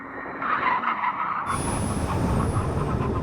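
Tyres skid loudly as a supercar makes a full emergency stop at a line during a drag-race test of a Ferrari 296, McLaren 750S, Huracan Performante and 911 Turbo, with a rising squeal and a rough scrub that grows under braking.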